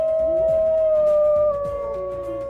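Wolves howl in long, sustained, gliding tones, several voices overlapping close and clear with no talking.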